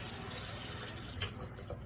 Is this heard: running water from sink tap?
yes